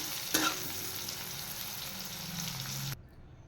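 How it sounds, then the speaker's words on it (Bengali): Thin-sliced eggplant seasoned with salt and turmeric frying in oil in a wok: a steady close sizzle with a stirring clatter near the start, cutting off abruptly just before the end. "সামান্য নুন হলুদ দিয়ে বেগুনটা ভেজে নেব"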